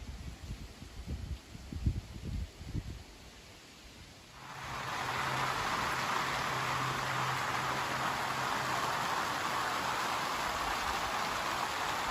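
Light rain begins falling outside a house near a workshop, a sudden steady hiss of drops that starts partway through after a few quiet thumps and then holds evenly to the end.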